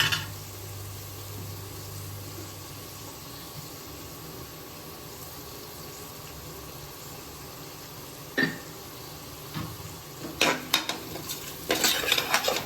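Chopped tomatoes with salt sautéing in a pan for chicken kurma: a low steady sizzle runs throughout, with scattered scraping and clinking of a utensil against the pan growing more frequent near the end.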